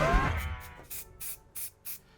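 Primer sprayed from an aerosol can onto a 3D-printed tank model in a home studio: after an opening rattle, four short hissing bursts come in an even rhythm, close and loud with brief pauses between.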